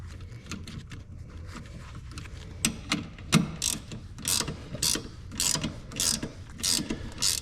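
A ratchet tightens a bolt on a Brembo big brake kit caliper on a Z31 300ZX, giving a few quick clicking bursts followed by a steady run of rhythmic ratcheting strokes, close and fairly loud against a quiet garage background.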